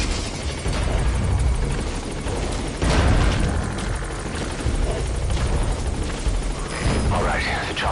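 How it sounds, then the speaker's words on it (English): A helicopter sets down in Metal Gear Solid 5, its rotor roar and turbine wash steady and loud throughout, with a heavier swell midway and battle-like rumbles, while a voice talks over it. "the chopper's touching down"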